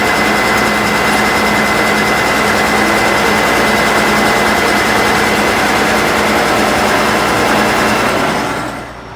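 Steady drone of a hydrostatic machine's motor running at constant RPM, loud and unchanging with a continuous mechanical hum and whine that holds throughout, then drops away at the very end.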